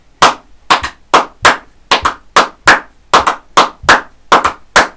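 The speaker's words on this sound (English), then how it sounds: "small rhythmic pattern that we're going to clap" Hands clap a short rhythmic pattern during a Year 5 and 6 school music lesson: about a dozen crisp, close claps in a repeating, uneven rhythm, some in quick pairs, with no talking.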